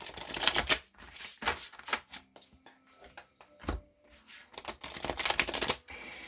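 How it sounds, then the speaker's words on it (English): Crisp bursts of riffling and shuffling a deck of cards close by, several quick flurries separated by brief pauses and light handling clicks. "Let me just give them a quick shuffle."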